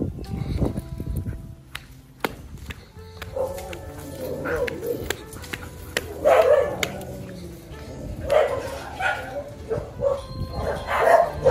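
A dog barks in short, scattered bursts amid footsteps and shuffling outdoors, the barks growing more frequent toward the end.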